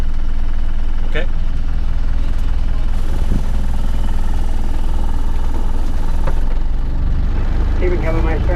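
An off-road vehicle's engine rumbles at low, steady revs while it crawls through a creek crossing. People talk over the loud, continuous drone.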